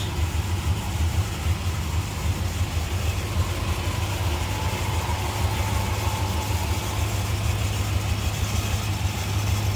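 A 1964 Chrysler 300 V8 engine idles steadily and evenly, a low rumbling hum that holds constant throughout with no revving.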